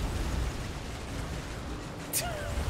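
A barrage of explosions in Soulstone Survivors, a continuous booming, crackling roar with a sharp pop near the end, heavy and sustained beneath a laughing voice.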